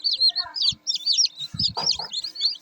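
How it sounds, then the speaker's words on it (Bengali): Newly hatched chicks from an incubator peep continuously in high, rapid chirps close by, while a person speaks briefly underneath. "দেখেন মুরগির বাচ্চাগুলো"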